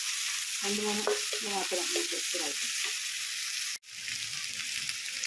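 Steady, close sizzle of oil in a frying pan as masala powders go in with slit green chillies, continuing under a brief spoken phrase early on and cutting out for an instant before resuming.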